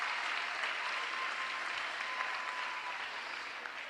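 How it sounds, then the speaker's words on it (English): Steady, dense applause from a large audience fills the room at Philadelphia's State of the City address, holding at an even level throughout and easing slightly toward the end. "Give him a round of applause."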